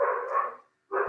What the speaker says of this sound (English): And please pardon my dogs.